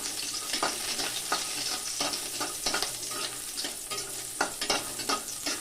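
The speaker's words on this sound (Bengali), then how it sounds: "এই তেলে আমি বড়িগুলোকে ভেজে নিব এই দেখুন কত সুন্দর লাগছে বড়িগুলো দেখতে বড়িগুলোকে একটু লাল লাল করে ভেজে নিব" Lentil dumplings (bori) frying in hot oil in a pan, a constant crackling sizzle punctuated by repeated scraping stirs and soft clinks, close and moderately loud with no voices.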